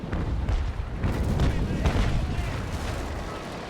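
Naval cannon fire from an enemy ship in the naval sailing battle game Naval Action, heavy rumbling booms rolling together into a low, sustained roar, loud and near.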